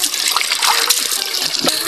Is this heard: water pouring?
yes